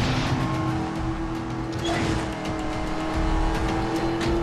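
A car engine runs at full throttle in the Medal of Honor Warfighter video game, a continuous loud droning roar with a steady pitch and no voices.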